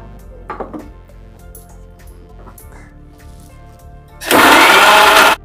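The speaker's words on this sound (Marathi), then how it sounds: "टमाटर टाकून मिरची ह्यासाठी पिसते की टमाटर टाकले तर त्याचा तो रस असतो, त्या रसामुळे मिरची चांगल्या पिसली जाते।" An electric kitchen mixer grinds green chillies with tomato into a paste, bursting into a loud, steady whirring roar for about a second after quieter clinks and handling sounds.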